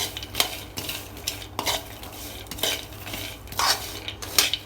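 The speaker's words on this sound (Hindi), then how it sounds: "तो अच्छे से हम स्टर फ्राई कर लेंगे फॉर अप्रॉक्सीमेटली 5 मिनट्स।" Pistachios and walnuts stir-fried in a pan, repeated scraping and rattling of the nuts against metal in an irregular stirring rhythm over a faint sizzle, no speech.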